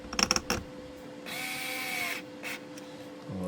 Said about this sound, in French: On prend la petite visseuse si on veut aller plus vite